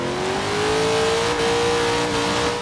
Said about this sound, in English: It's that wheel spin and lack of control.